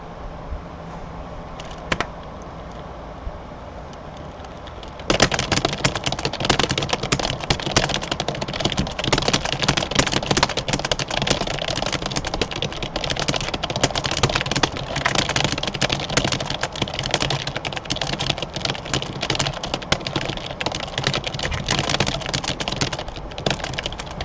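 Fast, continuous typing on a computer keyboard during speed-typing practice: dense, loud, close clattering of keys that starts after a brief quieter lead-in and runs steadily without speech.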